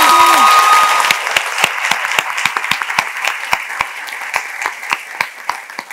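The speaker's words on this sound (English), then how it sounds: "Please give a round of applause to Team B" Audience claps for a team on a women's leadership quiz panel, a full burst of applause that quickly drops to a few people clapping in a steady, distinct rhythm, with a brief voice at the start.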